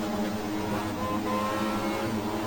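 Race cars in the GTR2 game, 1994 German Touring Car Cup at Spa, roll toward the start as a steady, droning engine hum that holds constant and fairly loud, with no one speaking.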